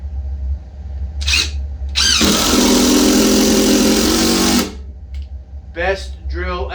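A DeWalt hammer drill roars loudly for a few seconds with a harsh, rattling buzz, close by, with brief voices before and after.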